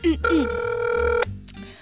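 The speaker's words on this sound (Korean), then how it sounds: "전화 따릉따릉 해볼게요." A telephone ring effect on a Korean radio talk show gives one loud, bright, buzzing ring burst lasting about a second, with voices just before and after.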